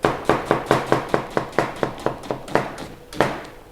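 A kitchen knife chops vegetables on a cutting board in a steady run of about a dozen crisp, evenly spaced knocks, close and clear, with a short pause before a final chop.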